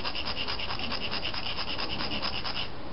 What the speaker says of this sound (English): if you want to sharpen them, just take some concrete. Like I have a porous concrete rock here.